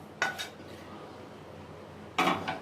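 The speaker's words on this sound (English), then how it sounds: "I need to take it out from the pan and put it" Cooked sticky rice being scraped from a pan onto a plate, two short clattering scrapes of a utensil against cookware about two seconds apart, with near silence between them.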